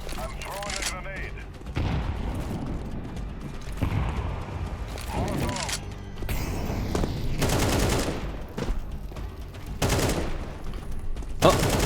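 Bursts of rapid video game gunfire, loud volleys recurring in clusters between pauses, with excited players talking over the shooting.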